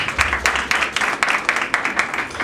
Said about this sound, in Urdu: ان کے لیے ذرا تالیاں بجا دیں